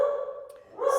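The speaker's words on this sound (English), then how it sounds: "hopefully she will stop barking" A female dog gives a couple of short, sharp yelping barks, close and fairly loud, with a brief gap between them.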